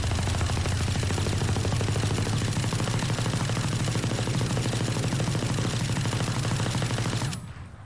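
Ares machine gun from Valorant firing a long continuous automatic burst, loud and close with rapid even shots for about seven seconds before cutting off abruptly.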